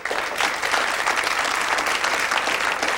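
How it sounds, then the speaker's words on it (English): A studio audience at a 1987 model-of-the-year contest gives a dense, even round of applause that holds steady at moderate volume for the whole three seconds. "a nice round of applause, please, for Fiona Campbell."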